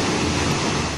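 Flowing waterfalls and a river in Naran valley make a steady, broadband rush of water, loud and close, constant throughout with no voices.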